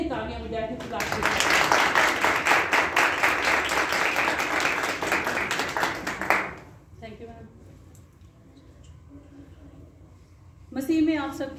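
Congregation at a church service applauds loudly and steadily for about six seconds, dense clapping that then drops away to quiet room sound, with a brief burst of speech near the end.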